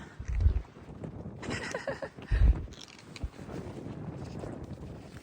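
Strong wind gusts of about 50 mph on a mountain ridge buffet the microphone in rough, rumbling gusts, with two heavy low thumps standing out against a steady rushing background.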